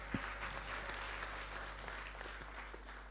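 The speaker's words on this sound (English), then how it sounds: "round of applause for ZMost." Applause from an audience at the Zimbabwe Ministry of ICT Innovation Fund launch: fairly faint, even clapping over a low steady hum, with a few sharper claps standing out.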